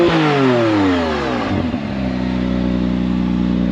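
McLaren Artura engine starting and revving in sport mode, a sharp rising rev that sweeps up then settles into a steady, loud idle, close and alone.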